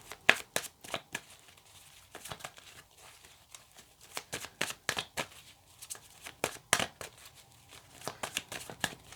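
A deck of tarot cards being shuffled by hand, with a run of crisp, rapid riffling bursts and flicks in an uneven rhythm, close and fairly quiet. No speech is heard.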